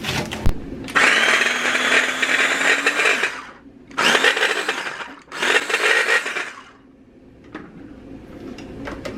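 An electric mincer chops onion and green onion for lumpia in three loud whirring bursts separated by short pauses, the motor pitch dipping slightly under load before it falls quiet.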